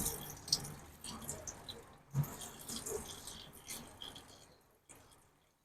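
Water drains and drips from wheat that soaked four days and was just washed, giving soft, scattered trickles and a few sharper drops, faint and close with no talking.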